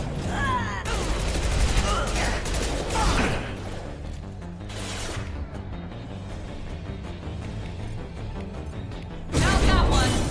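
Gunfire in Mass Effect 2 during a squad firefight, with bursts and loud sharp shots at the start and near the end over busy combat noise, while someone talks through it.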